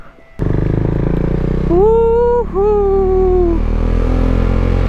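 A KTM 390 Duke with a decat exhaust starts off on a ride, its engine a loud, continuous close drone, while a rider whoops excitedly over it midway.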